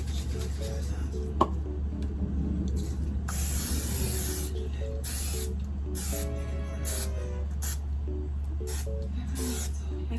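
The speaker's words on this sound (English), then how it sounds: "Get your non-stick spray," Non-stick cooking spray hisses steadily into a baking pan, a near and continuous aerosol spray running beneath a low background hum, with a brief pause partway through.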